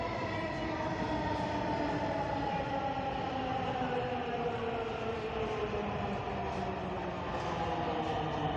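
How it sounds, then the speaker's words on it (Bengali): A metro rail train runs with a loud, steady rumble and a layered whining drone that barely changes, heard from inside or close by the whole time. "মেট্রো রেলে শব্দ"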